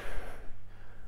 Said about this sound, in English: just get used to this breathing